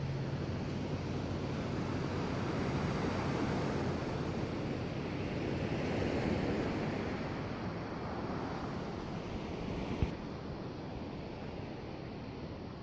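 Ocean surf at the mouth of the Russian River where it meets the Pacific at Jenner, a steady broadband wash of waves and wind, loud and continuous with no voices and one brief thump near the end.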